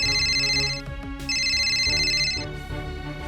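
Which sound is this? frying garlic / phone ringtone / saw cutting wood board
phone ringtone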